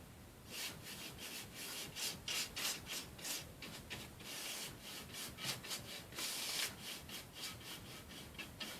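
Rhythmic brush strokes scrape and rub across a wooden picture frame as chalky gray paint goes on in quick, rough back-and-forth passes, steady and close with no talking.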